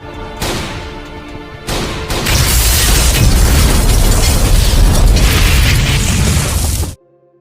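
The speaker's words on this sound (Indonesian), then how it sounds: "aksinya pun berhasil dihentikan menyusul terjadinya ledakan dari mobil yang ia gunakan" A car explodes with a loud, rumbling blast that roars on for several seconds, with a heavy low boom, before cutting off abruptly.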